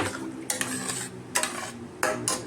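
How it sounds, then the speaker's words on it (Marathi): Indrayani rice goes into a cooking pot of water, heard as three short gritty pouring bursts with light metallic clinks of pot and utensil between them, close by and fairly loud, with no talking. "आता त्या भांड्यामध्ये तांदूळ राहील ते पण टाकते त्यात."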